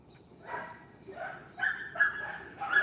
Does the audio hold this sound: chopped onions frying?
no